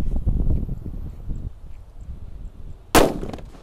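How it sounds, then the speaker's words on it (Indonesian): A low rumbling hiss builds, then a single sharp, loud bang bursts out near the end as a bazooka firecracker carried on a toy car launches and explodes close by. "ini ada mobil mainan mengangkut mercon bazooka guys. Kita nyalakan ya."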